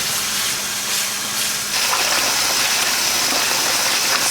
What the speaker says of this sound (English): So I'll typically rinse it out like 2 or 3 times.